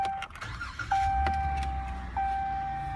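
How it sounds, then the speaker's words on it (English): Keys jingle and scrape as a key slides into the ignition of a 2016 Ram 1500 SLT 4x4 pickup, followed by a steady electronic chime tone from the cab, close and alone. "Gonna put the key in the ignition."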